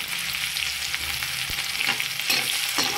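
Garlic and chopped onion fry in oil until browning, a continuous close sizzle broken by repeated scraping stirs and a single soft knock against the pan.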